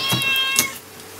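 A domestic cat meows twice in quick succession, fairly close and clear, with a faint steady hum in the room behind it.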